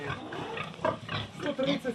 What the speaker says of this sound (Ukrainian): Це молоді свиноматки ремонтні